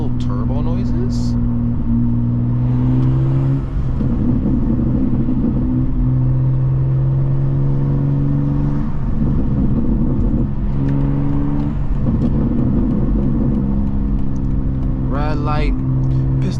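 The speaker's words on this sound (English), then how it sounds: "Little turbo noises." A 2024 BMW M2 cruises with a steady, loud engine drone, rising and falling with throttle, and faint turbo whooshes and whistles on top; someone talks and music plays throughout.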